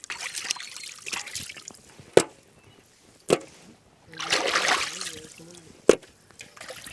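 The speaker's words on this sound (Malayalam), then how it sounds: "ഇനി നമ്മുടെ മീൻ ഒരു മൂന്ന് റൗണ്ടെങ്കിലും നമുക്ക് അടിപൊളിയായിട്ട് കഴുകിയെടുക്കണം" Karimeen fish being washed in water, with trickling and splashing, a few sharp knocks, and a louder burst of sloshing near the end; no talk.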